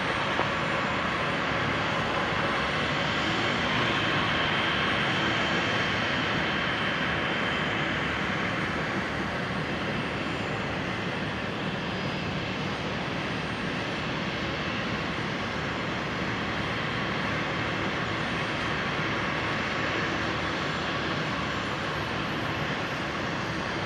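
A Qantas airliner takes off from runway 01 left at Brisbane International Airport, its steady broadband engine roar holding loud and sustained throughout with no voices over it.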